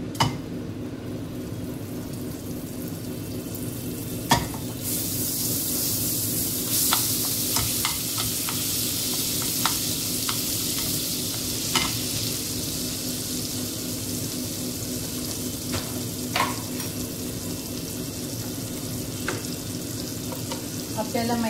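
Butter sizzles and fries in a hot kadhai while being stirred, a steady close crackling hiss punctuated by sharp scraping and clinking strokes of the spoon against the pan, with no voices.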